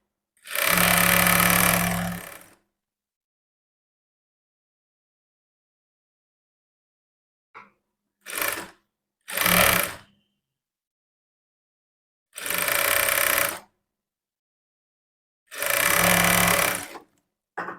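A sewing machine stitching blouse cloth in several separate runs, loud and close, one long burst, a few short ones, then two more steady runs with silence between.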